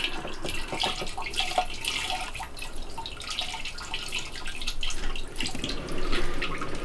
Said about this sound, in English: while at the same time dumping the fuel back in the tank